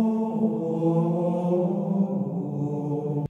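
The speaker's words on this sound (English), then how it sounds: "It was basically a lot of men in a big church, and they were all chanting, started out as one note at a time" Men chant Gregorian plainchant in a big church, their voices blending into a sustained, resonant line of slowly shifting notes, heard alone and fairly soft.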